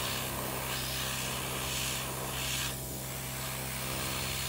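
A spray bottle mists colour onto a makeup surface, a few soft hissy bursts spread over several seconds against a steady low hum, fairly quiet and with no talking.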